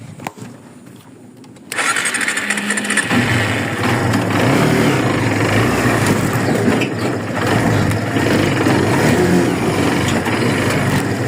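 A motorcycle engine is started and moved at a site where trucks are delivering sand and gravel. After a brief quieter moment, a loud, steady, rough engine roar takes over and continues.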